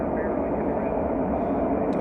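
An American Airlines Boeing 737 departing Chicago O'Hare, heard as a steady, broad jet engine roar that holds constant throughout, with no talk over it.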